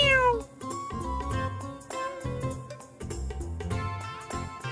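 A cat meows repeatedly in the video game Chrono Cross, several clear, plaintive mews in a row, loud and close amid game sounds.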